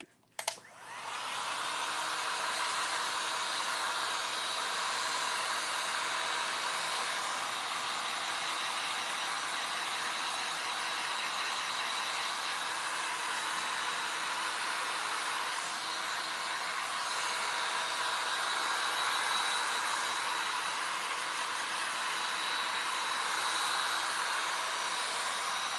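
A dryer blowing on gesso to crack it for an aged paint patina clicks on abruptly and then holds a steady, loud, close whooshing whir without a break.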